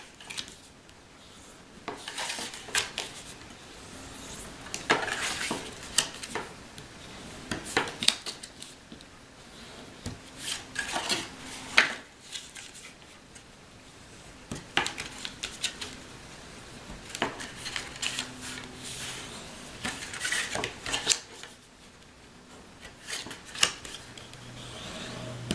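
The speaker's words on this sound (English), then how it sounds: "And let's burnish them." A burnishing tool rubs along folds of card stock in irregular scraping and swishing strokes, faint and close, repeated in bursts across a quiet room.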